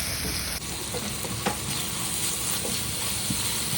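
Fish pieces frying in oil with red chili powder over medium-low heat give a steady, close sizzle, with a few light stirring scrapes and no voices.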